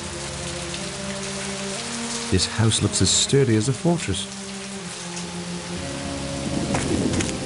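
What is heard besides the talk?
rain in a video game, And Then There Were None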